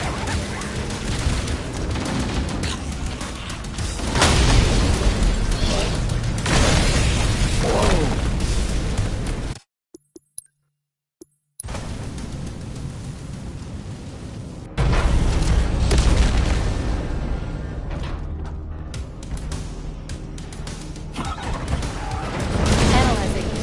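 Engine detonation in a Halo game, heavy booming explosions and crashing rumble in long loud bursts, broken by a short silent gap before the blasts resume.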